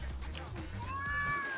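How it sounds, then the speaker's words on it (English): A pet cat gives an unhappy, drawn-out meow near the end, rising and wavering, over low room noise and faint background sounds. "That is not the sound of a happy cat."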